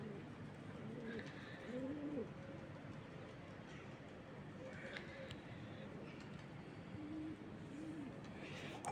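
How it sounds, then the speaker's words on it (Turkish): Pigeons cooing early in the morning around six, a few soft rolling coos in short bursts over a quiet, steady background hush, fairly close but gentle. "Bir tek güvercinler."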